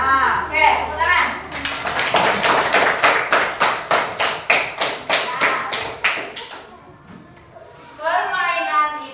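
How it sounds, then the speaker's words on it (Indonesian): Classroom applause from a group of students, a burst of many hands clapping in a brisk, even rhythm for several seconds, with a voice talking before and after it. "Nah, oke, tepuk tangan."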